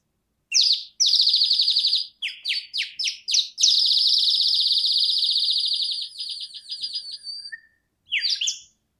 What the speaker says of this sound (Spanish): con el sonido del pajarito de agua de nuestro profesor Jesús Mujica Rojas